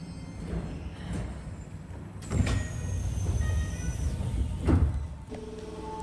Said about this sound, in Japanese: そして扉が閉まります。